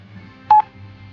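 A single short telephone dialing beep sounds clearly once against a quiet low hum, with no talk.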